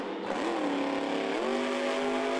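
A monster truck engine at Monster Jam in Sam Boyd Stadium, Las Vegas, revs with a strong rising whine that climbs, dips and climbs again, loud and sustained.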